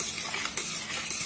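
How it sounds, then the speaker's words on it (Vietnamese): A spoon or spatula stirs thick soaked-rice batter for bánh đúc in a pot on the stove, giving a soft continuous scraping and wet churning with a faint sizzle, close and steady. "Các bạn thỉnh thoảng cứ đảo lại đi."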